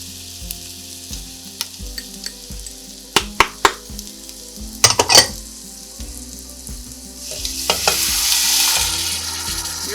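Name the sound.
sauce with tomatoes sizzling and being stirred in a pan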